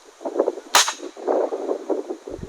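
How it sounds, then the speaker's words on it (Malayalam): A homemade PVC pipe gun, used in the Ambanad hills to scare off wild animals, fires a single sharp blast that stands out loudly amid nearby chatter. "ഇപ്പോൾ ഒരു ചേട്ടൻ അവിടെ ഒരു വെടി പൊട്ടിച്ചത് നിങ്ങൾ കേട്ടില്ലേ? ഒരു PVC പൈപ്പ് കൊണ്ടുണ്ടാക്കിയ ഒരു ഉപകരണമാണ്."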